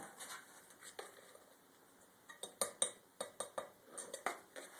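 American Clay earth plaster mix is stirred in a container, giving a run of quiet, rhythmic clinks and scrapes that pick up pace toward the end.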